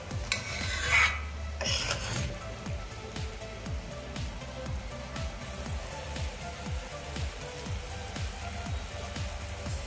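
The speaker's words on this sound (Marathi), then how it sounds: "इथे आपल्या ग्रेव्हीला मस्त उकळी आलेली आहे" Thick gravy for cauliflower-pea kofta bubbles and pops steadily in a pan at close range, a continuous busy crackle with no voices.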